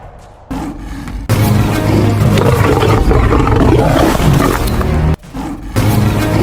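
Lions roaring and snarling while fighting, a loud, close, continuous deep roar that breaks off briefly near the end before resuming, with no talking.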